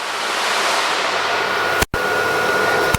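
A CNC router's vacuum table suction runs as a steady, loud broadband rush, holding material flat for cutting and engraving, with a brief dropout near the end before the hiss resumes.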